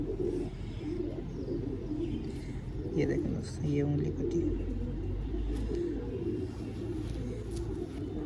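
A large, long-bodied pigeon with a cut toe coos in low, repeated murmurs close by, partly under someone talking in Hindi, with a faint chirp and passing traffic behind.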